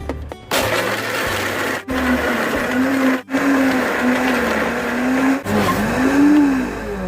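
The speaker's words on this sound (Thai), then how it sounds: "แล้วก็ปั่นให้เข้ากันนะครับ" Electric blender whirring steadily as it purées ripe mango with fresh milk into a thick, ice-cream-like smoothie, a loud continuous motor drone with brief dips where the pitch drops and recovers.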